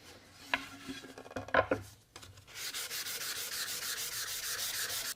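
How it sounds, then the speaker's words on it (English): Wood being hand sanded with 400 grit sandpaper for a console table build: a few scattered scrapes and knocks, then a steady rhythmic back-and-forth rasp, close and moderately loud with no voices. "400 grit paper, I'm just sanding everything by hand now"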